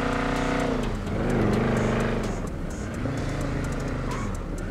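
A car engine in the video game GTA 5 hums loudly and steadily, rising and falling slightly in pitch as it revs, with no one speaking.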